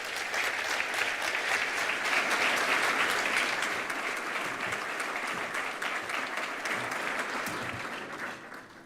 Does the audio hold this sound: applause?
yes